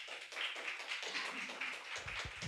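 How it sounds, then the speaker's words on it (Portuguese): A church congregation applauds, a soft, rapid patter of many hands clapping at a distance, fairly faint and continuous. "Vamos aplaudir o nosso Deus"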